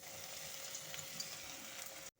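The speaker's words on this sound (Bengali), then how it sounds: "এখন আমি এই ব্রেডগুলোকে ছাঁকা তেলে ভেজে নেব।" Bread slices deep-frying in hot white oil in a wok, a dense continuous sizzle close by, steady throughout and then abruptly cut off.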